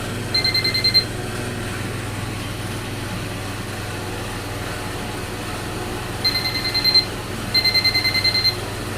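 Short bursts of high-pitched electronic beeping from a non-contact AC voltage tester pen sound twice against a steady low hum, with a long pause between the bursts.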